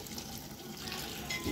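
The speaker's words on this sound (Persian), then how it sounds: "دوستا این آب اضافه میکنیم" Water pours into a cooking pot with a faint, continuous splashing and gushing hiss while dinner is cooked in Kabul, Afghanistan, heard briefly and fairly quietly.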